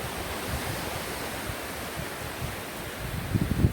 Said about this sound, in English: And I love the sound of the waves too.